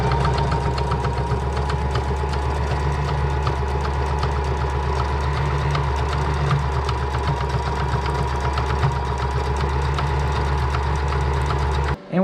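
Sewing machine stitching a folded strap seam for a custom bench seat cover for a C10 Chevy Squarebody, running steadily and loudly with a fast, even mechanical whir throughout, stopping abruptly at the end.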